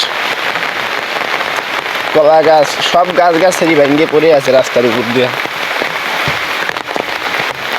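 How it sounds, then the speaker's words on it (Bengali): Heavy rain pours steadily as a broad, constant hiss over flooded roads, lasting throughout while someone talks over it for much of the time. "বৃষ্টিতে কত পানি হয়ে গেছে অনেক পানি প্রচণ্ড পানি হয়েছে"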